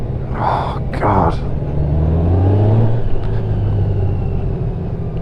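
A 2021 Honda Goldwing DCT motorcycle engine runs with a loud, close rumble that swells as it accelerates, while a person talks briefly over it at the start.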